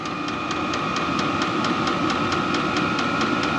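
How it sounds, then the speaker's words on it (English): A Chinese 27,000 BTU diesel heater runs at full output, making a loud, steady mechanical drone with a fast, regular ticking pulse from its pump and a constant fan whine, close up and uninterrupted. "Man, she's really kind of spooling now."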